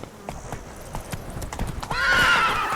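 Hooves of a galloping horse in The Witcher 3: Blood and Wine pound in a steady rhythm, close and fairly loud, then a shrill whinny rises near the end.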